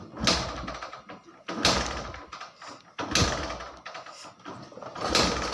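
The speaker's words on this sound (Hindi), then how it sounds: "तो इस बाइक को जैसे मैं किक से स्टार्ट करता हूँ" A Hero HF Deluxe BS6 motorbike is kicked repeatedly without starting, four forceful kick-start strokes at steady intervals, each a mechanical clack followed by a brief churning of the engine that dies away.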